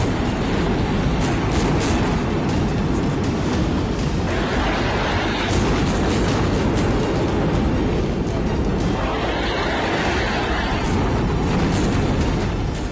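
Bombing over northern Gaza, heavy explosions rolling in from miles away as a dense, continuous low rumble with broad booming surges throughout, loud and unbroken.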